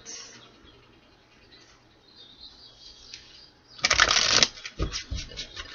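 A tarot deck is shuffled close by: a quiet stretch, then a sharp riffling burst followed by a few shorter card-flicking rustles, with no talking.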